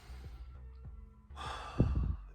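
Deep breath for the Wim Hof breathing method: a soft nasal inhale followed by a louder, airy, close exhalation like a sigh, heard alone without speech.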